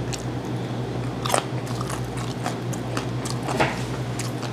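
Close, wet chewing of whole gizzard shad dipped in chili sauce, with a few crisp bony crunches breaking through a steady squishy mastication over a low background hum.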